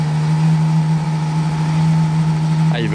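Ferrari fitted with a full Novitec exhaust line runs with its valves closed, a steady low engine hum that stays fairly quiet and even throughout, with a brief higher chirp near the end.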